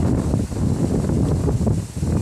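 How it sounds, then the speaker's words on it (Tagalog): Strong wind buffets the microphone outdoors beside water, a steady loud rumbling roar with gusty surges and no speech. "Lakas ng hangin."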